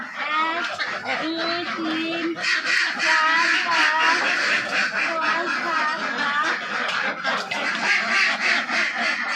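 Ducks on a duck farm quacking in a dense, noisy chorus, loud and close, with people talking among the birds.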